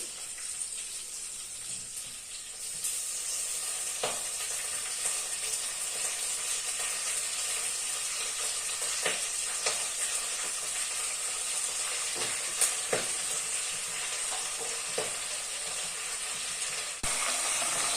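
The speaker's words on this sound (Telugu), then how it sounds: "మెంతం కూర కూడా ఆయిల్లో వేసుకొని మంచిగా ఫ్రై చేసుకోవాలి." Fenugreek leaves fry in oil for menthi kura pachadi, giving a constant, even sizzling hiss close by, with scattered light stirring clicks and no talking.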